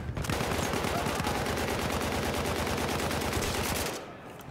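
An MP18 submachine gun in Battlefield 1 fires a long sustained automatic burst of rapid, evenly spaced shots, loud and close, that runs nearly four seconds and then stops abruptly.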